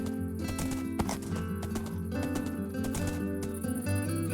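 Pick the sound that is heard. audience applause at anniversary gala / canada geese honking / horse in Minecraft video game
horse in Minecraft video game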